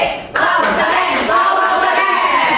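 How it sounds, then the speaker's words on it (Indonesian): A small classroom group bursts into steady rhythmic clapping for a pupil named Gavi during a fifth-grade peer teaching lesson, the claps close and even, lasting a couple of seconds with faint voices underneath. "tepuk tangan Gavi"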